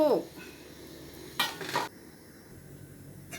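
A spoon stirring a soy sauce and lime juice dressing in a bowl, with a couple of short clinking, scraping bursts against the dish amid quiet pauses.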